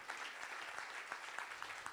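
Steady round of clapping from an audience at a Bharatanatyam Arangetram dance recital, fairly faint and distant, with dense overlapping claps and a few sharper individual hits.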